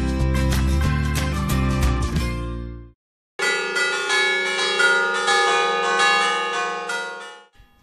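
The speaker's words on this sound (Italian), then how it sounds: "Le campane che suonano a festa nel paese di Celesia" Church bells ring out festively in the small village of Celesia in the Val Cicana, a rich, loud peal of layered tones with a brief pause in the middle before the ringing resumes.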